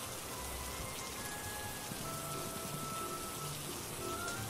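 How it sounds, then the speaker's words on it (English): Steady rain falls in the potion-shop game Potionomics, a soft, even wash of dense drops with no talking, constant and fairly quiet throughout. "Rain sounds."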